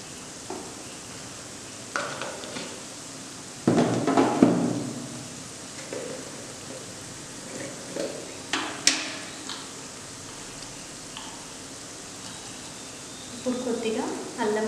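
Onions frying with turmeric in a pan give a low, steady sizzle, broken by scattered clinks and scrapes of stirring. One louder burst of sizzling stands out, and there is no talking.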